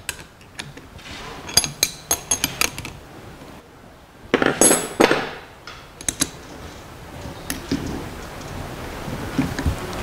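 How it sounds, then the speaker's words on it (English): Long bolts holding a car starter solenoid are worked loose with tools, giving irregular sharp metallic clicks and ratcheting bursts, with a denser clattering stretch in the middle, heard close with no talking. "There are some two long bolts which are holding this solenoid, so I have to remove them."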